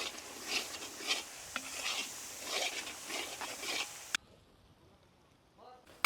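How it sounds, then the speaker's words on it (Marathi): Red chili powder, garam masala, coriander powder and pepper stir-fried in a pan over a traditional wood-fired stove, a close, busy sizzle with scraping strokes that stops abruptly, leaving near silence. "आपण आता मसाले व्यवस्थित परतून घेऊ"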